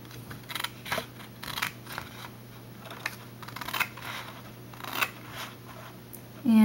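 Scissors cut paper along a score line while making pocket pages, heard as a close series of soft, irregular snips and rustles. A brief louder tone comes at the very end.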